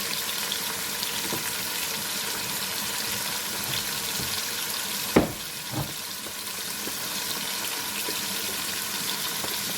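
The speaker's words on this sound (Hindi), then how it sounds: "जब हमारे टमाटर भुन रहे हैं तो साथ ही" Tomatoes and spices, including roasted ground cumin, frying in a pan for a beef paye curry, giving a constant loud, even sizzle with one sharp knock of a utensil midway, no voices.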